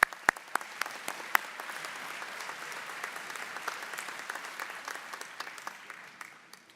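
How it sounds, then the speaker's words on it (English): Graduates applaud themselves at a 2010 GSDM convocation ceremony: a steady, moderately distant wash of many hands clapping, with a few sharp, close claps standing out early, and no speech over it. "Give yourself a round of applause."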